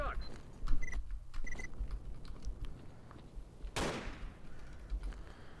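Gunfire in the video game Stalker, with a scatter of sharp, clicky shots and one louder crack near the end, set against a steady game-ambience background.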